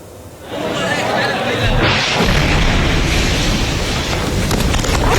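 An Israeli airstrike hits a house in the Al-Nusairat refugee camp in Gaza, with a loud sudden blast half a second in, followed by a sustained roaring rumble and voices mixed in.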